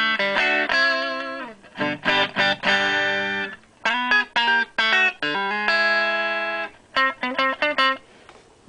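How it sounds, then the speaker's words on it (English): A Stratocaster on its neck pickup plays through a home-built amp with no pedal, clean, bright guitar notes and chords in short phrases separated by pauses, close and clear, with no talking. "here's the amp by itself. The Strat is on the neck pickup."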